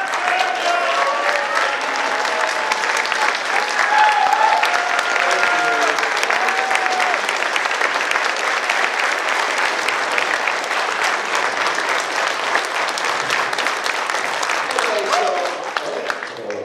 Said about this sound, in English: Give him a standing ovation, people.